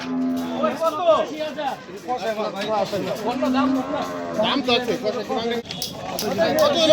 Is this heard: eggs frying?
no